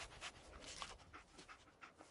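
Dogmeat, the dog companion in Fallout 4, panting in quick rhythmic breaths, soft and close, with no talk over it.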